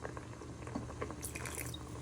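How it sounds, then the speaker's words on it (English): A small splash of vinegar is poured into a pot of chicken and mushroom stew thickened with flour. The pour is brief, soft and liquid, with faint dribbling over a low steady background. "You want to pour a little bit of vinegar in,"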